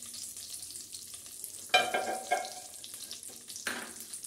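Whole cinnamon, cardamom and bay leaf sizzle and crackle in hot ghee, with bursts of stirring and spattering as the spices hit the pan and move around, close and fairly loud with no voices.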